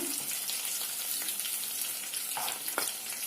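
Steady crackling sizzle of vegetables frying in hot oil, close and continuous, with a few brief stirring scrapes and no talking.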